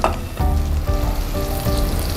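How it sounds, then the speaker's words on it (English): Butter sizzles and crackles steadily as it melts in a hot pan for a cheese sauce, with a brief stir or clatter near the start and later on. "Let's add the butter."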